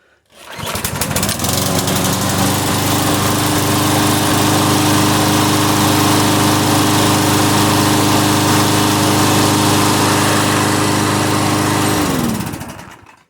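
A Troy-Bilt 21-inch front-wheel-drive push lawn mower starts up and runs loudly and close by for about eleven seconds, its steady engine drone then cutting out at the end.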